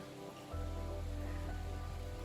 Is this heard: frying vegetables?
no